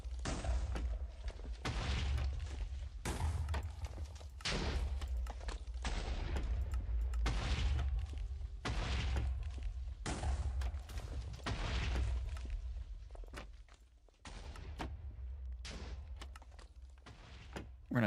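TNT explodes again and again in a video game. Dense, loud booms and crackling blasts overlap in a near-continuous barrage, with a short lull near the end before the blasts resume.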